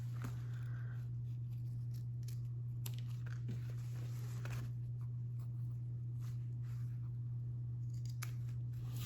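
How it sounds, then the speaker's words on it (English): Scissors snipping fabric to trim the sewn sides of a makeup bag: a series of quiet, crisp cuts at irregular intervals over a low steady electrical hum. "help make the points nice on the sides of this makeup bag is to trim the sides"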